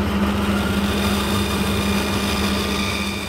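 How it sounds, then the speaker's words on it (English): A vertical bandsaw runs through dense birch plywood in a school workshop, giving a steady, loud mechanical hum with a constant motor tone throughout. "The bandsaw easily cuts through dense birch plywood and will not stop for your finger."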